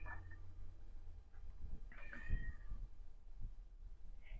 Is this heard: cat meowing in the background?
yes